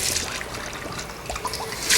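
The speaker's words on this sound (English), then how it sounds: "I'm going to take some very warm tap water." Very warm tap water runs from a faucet to soak a pasta maker die, a steady trickling splash close by that swells louder at the end.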